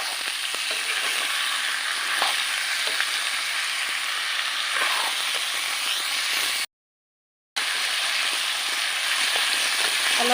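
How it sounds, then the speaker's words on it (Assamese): Lentils and potatoes fry in a pan for khichdi, giving a steady, dense sizzle with faint stirring ticks, cut by a brief dead-silent gap before the sizzle resumes. "এতিয়া আলু দাইল সকলো দিয়া হৈ গ'ল। এইখিনি অলপ সময় ভাজিম।"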